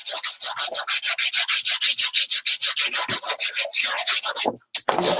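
Sandpaper scrubbed quickly back and forth over a book cover to roughen it, about two dozen close, rhythmic rasping strokes that stop just before a brief knock near the end.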